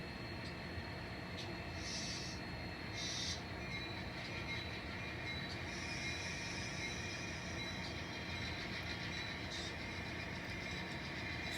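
An N scale model train runs along its track with a steady, close mechanical whir and faint rail clicks, a couple of brief higher squeaks rising above the continuous running hum, with no talking.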